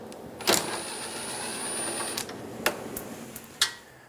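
A 7mm bolt comes out of the top center of the grille on a 1988-1999 GMC K1500, heard as a short whirring of a powered driver followed by a few sharp metallic clicks and taps, close and fairly quiet.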